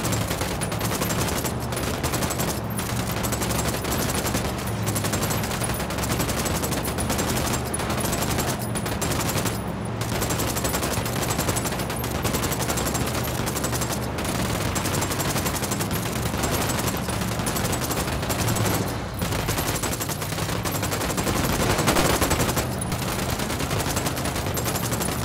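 Sustained, heavy gunfire from the Ghost Recon Wildlands video game fills the whole stretch: dense automatic bursts and overlapping shots, loud and continuous with no let-up.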